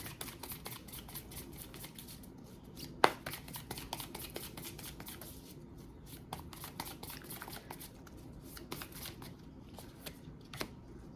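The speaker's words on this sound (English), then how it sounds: "I'm going to go ahead and pull two of these Animal Spirit Oracle cards." Animal Spirit Oracle cards are shuffled and drawn from a deck up close, with quiet, rapid riffling, flicks and soft papery snaps repeating throughout, with no voices.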